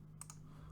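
A few quick keystrokes on a computer keyboard, close and faint over a steady low hum, two clustered taps then a lighter one.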